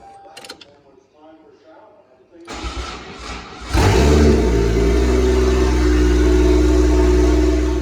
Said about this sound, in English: now we can start this thing up with the key